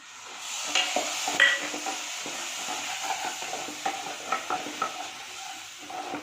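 Ground tomato paste for rasam stirred and sautéed in a pan, with a steady soft sizzle and repeated light scraping strokes of a spoon against the pan, close by and continuous, with no one speaking.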